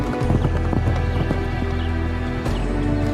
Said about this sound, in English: a herd of wild horses roaming the rangeland